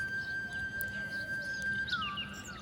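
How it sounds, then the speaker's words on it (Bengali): Birds chirp and whistle in a quiet public park in Saudi Arabia: a steady, thin whistled note holds, then slides downward into a few brief high chirps, moderately faint over soft background hum. "পাখিটা ডাকতেছে, কিচিরমিচির শব্দ।"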